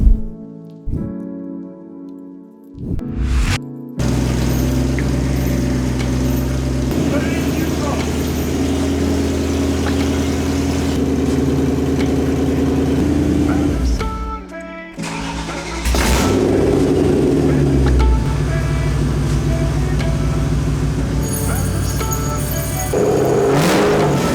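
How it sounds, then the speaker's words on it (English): A BMW 1M engine cranks and starts, settles into a steady idle, then revs up a little; a short pause before the engine runs again, no clear talk. "when the car was on, we put it into gear, we revved it a little bit"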